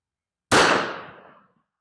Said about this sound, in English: I'm just going to take nice controlled shots and see how we do.